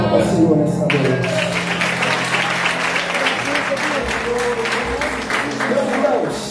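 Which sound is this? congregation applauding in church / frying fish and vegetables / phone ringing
congregation applauding in church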